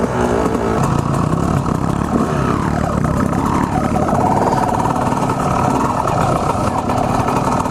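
Dirt bike engine running, a loud close rough clattering idle with slight revving, held on the clutch, continuous throughout.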